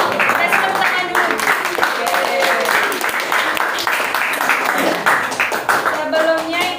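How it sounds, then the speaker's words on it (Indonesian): Classroom applause after a group presentation at a junior high school in Indonesia, a brisk continuous patter of many hands, fairly loud and close, with students' voices mixed in. "Kasih tepuk tangan dulu."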